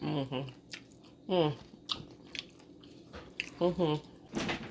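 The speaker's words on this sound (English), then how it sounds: "Let's try the fries." Fries being chewed alongside a turkey burger meal, with soft crunchy bites and squishy mastication in short bursts, close to the mic between stretches of people talking.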